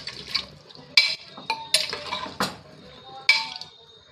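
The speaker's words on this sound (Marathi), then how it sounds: "चांगलं हलव म्हणजे मीठ मिक्स होतं" A spoon stirs food in a pressure cooker pot to mix in salt, giving several irregular clinks and scrapes against the metal, close and fairly loud with quiet gaps between strikes.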